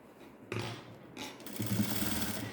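Sewing machine stitching the hem of a ladies' straight pant, running in short bursts of mechanical whirring and clatter that start and stop, close and fairly loud.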